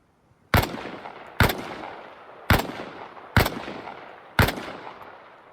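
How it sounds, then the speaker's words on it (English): Five loud single gunshots from a kneeling position in Arma Reforger, evenly spaced about a second apart, each sharp crack trailing into a short rumbling echo with no talk. "Try again, only this time fire from a kneeling position."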